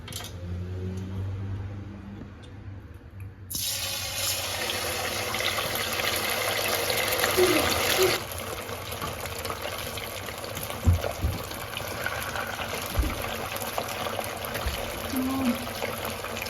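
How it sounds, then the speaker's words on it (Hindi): Fish frying in hot oil gives a steady, close sizzle and bubbling hiss that runs through the whole stretch with little change. "मछली जो है मैंने तलने के लिए रख दी है।"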